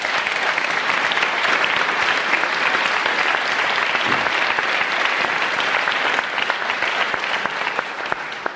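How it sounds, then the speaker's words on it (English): An audience at a panel discussion on talking across the social divide gives a sustained round of applause, thick and even clapping that fades slightly at the end. "by asking you to give yourselves and them a round of applause"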